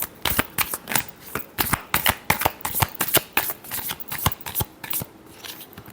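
Tarot cards being shuffled during a reading, a rapid run of crisp riffling flicks and slaps up close, steady and alone with no talk over it.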